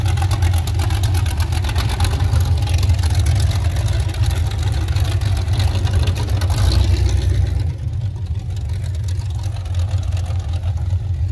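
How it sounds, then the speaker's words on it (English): A big, loud tractor at the Florida Flywheelers antique engine show rumbles steadily past up close, its deep continuous engine drone filling the whole stretch and easing slightly toward the end. "got a big loud tractor coming by"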